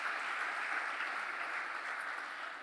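A church congregation gives a steady, even wash of applause during a sermon, moderately distant and continuous for a few seconds without talk.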